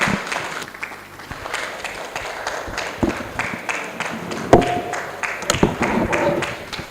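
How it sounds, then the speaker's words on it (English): Audience at a Nigerian law conference on technology and ethics claps as a judge takes the podium, thin scattered applause with sharp individual claps and knocks, fairly close, rising and falling over several seconds. "Can you please give him a round of applause as he takes the podium?"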